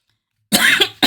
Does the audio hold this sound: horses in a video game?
no